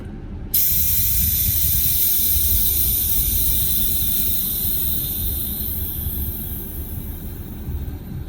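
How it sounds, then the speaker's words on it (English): Pressure release valve on an electric foam sprayer venting, a sudden sharp hiss that starts abruptly, holds loud and close, then slowly weakens over several seconds, with no talk. "So you release the pressure and then you can unscrew it."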